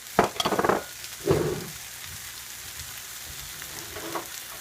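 Spinach wilting in a hot pan gives a soft sizzle, broken by a couple of louder bursts of stirring and scraping at the start and a quieter crackle later.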